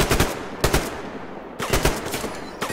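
Automatic gunfire in the post-apocalyptic shooter Survarium, several loud close bursts of rapid shots separated by brief pauses, with no talk over them.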